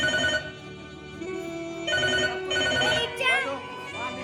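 A telephone rings in a home while someone calls a doctor, the repeated electronic ring tones sounding at moderate level amid voices talking nearby.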